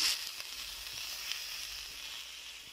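Chicken fries in a pan with a close, steady sizzle, a soft crackle and hiss throughout and no talking.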